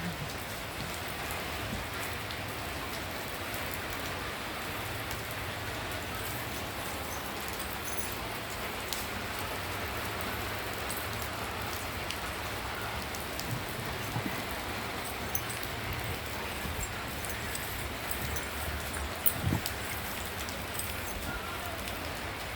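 Steady rain pours onto a sandy beach, a dense, even hiss of drops that stays moderate and unbroken throughout, with a few faint scattered knocks near the end.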